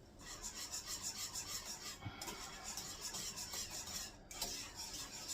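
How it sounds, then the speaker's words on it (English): Spices being whisked into a warming mixture of barbecue beans and wieners: a steady close scraping rasp with a rhythmic pulse, running continuously with a brief break near the end. "I think what I'm going to do is actually whisk it a little bit."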